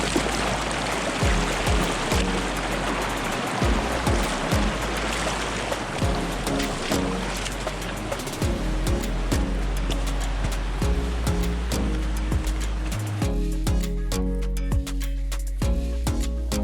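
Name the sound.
river water flowing in a slot canyon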